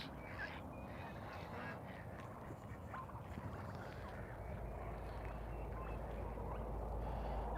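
Ducks on a turkey farm give a few scattered quacks, faint against a low, steady background rumble that strengthens toward the end.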